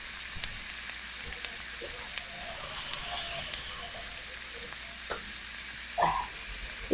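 Ground coriander and chilli spices fry in a pan for a boal fish curry, a soft continuous sizzle with stirring scrapes and one brief louder clink of a utensil near the end.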